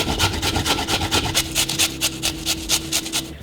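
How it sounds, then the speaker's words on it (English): A radish scraped over a grater in close, rhythmic wet rasping strokes, about two per second, steady and fairly loud with a faint hum underneath. "The first thing that I have to do is I have to grate the radish."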